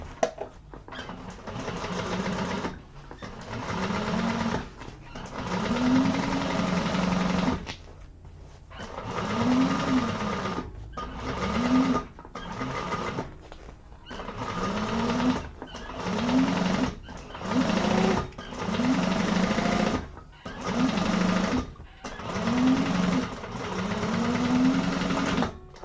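A sewing machine runs a second row of stitches along the seam of a hobo bag, buzzing in about a dozen steady bursts separated by short pauses.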